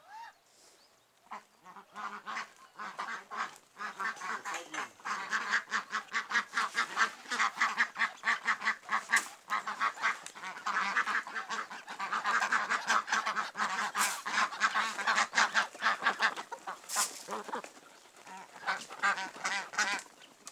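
A crowd of ducks quacks continuously and loudly nearby at feeding time on a village farm, overlapping rapid calls rising and falling over about twenty seconds.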